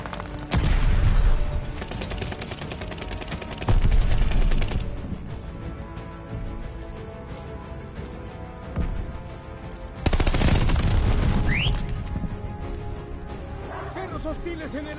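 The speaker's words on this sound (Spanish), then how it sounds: "Disparos en el punto caliente." Gunfire in the video game Call of Duty Vanguard comes in loud bursts of rapid automatic fire, then lighter scattered shots and game sounds in between, with a dog barking and voices heard through the mix.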